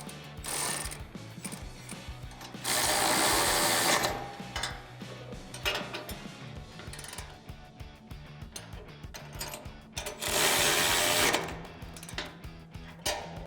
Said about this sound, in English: now we can adjust the bull bar where we want it to sit and tighten down all the hardware